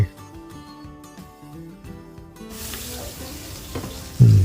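Spicy pork curry with termite mushrooms sizzles and bubbles in a pan, a steady close frying hiss with stirring scrapes and a louder clatter near the end, with no talk over it.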